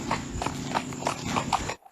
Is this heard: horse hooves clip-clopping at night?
yes